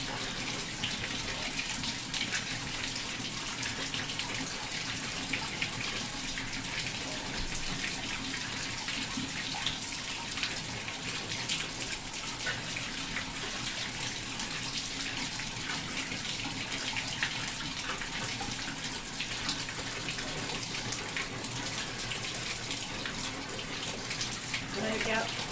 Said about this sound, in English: And then rinse it again.